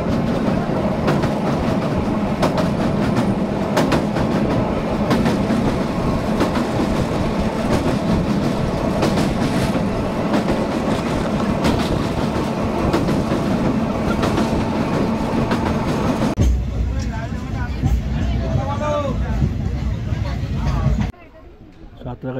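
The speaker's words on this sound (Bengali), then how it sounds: "আমাদের ট্রেন এসে গেছে মেচেদা স্টেশনে" Passenger train on the Howrah–Digha line rolling steadily on rails, a loud continuous rumble with rhythmic wheel clatter for most of the stretch, then easing as it slows into a station, with a voice talking over it.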